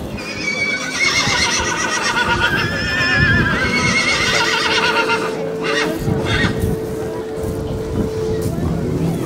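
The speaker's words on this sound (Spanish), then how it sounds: "Raquero es un caballo especialmente dotado para el salto" Raquero, a show-jumping stallion at an Armed Forces horse-breeding centre, neighs in loud, wavering whinnies up close over a busy background, then the sound settles into a steadier tone.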